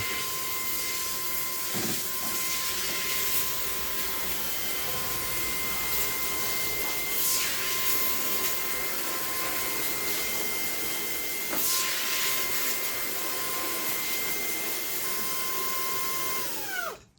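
A Fanttik V10 Apex cordless hand vacuum running in blower mode gives a loud, steady, close whine with a constant airy rush and occasional rubbing scrapes, then winds down abruptly as it switches off at the end.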